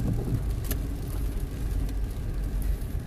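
A car rolls slowly toward a gate to park, with a low steady engine rumble and road whir close by and a couple of brief sharp clicks or knocks.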